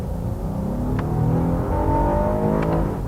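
A 2019 Honda Passport SUV accelerates, its engine droning steadily with the pitch rising gradually over a constant road and wind roar, heard from inside the cabin.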